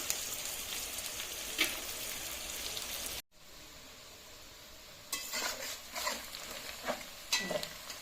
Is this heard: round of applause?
no